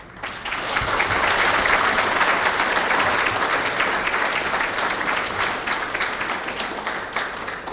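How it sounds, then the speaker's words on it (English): A full room applauds at an awards event honoring Brian Johnson, steady dense clapping that swells quickly, holds, then slowly thins. "So this round of applause is for you."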